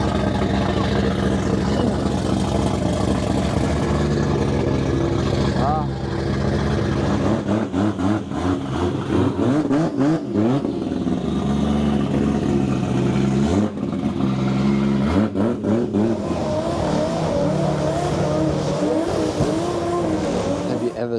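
A Lexus RC F at Goodwood Festival of Speed revs loudly and close, its engine note rising and falling in repeated sweeps, with tire squeal and a voice heard now and then beneath the roar.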